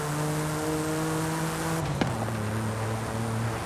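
A 1987 Buick Grand National GNX in Forza Horizon 5 holds a steady, loud engine drone, then snaps through a quick gear change and settles into a lower pitch as it keeps pulling, with no voices.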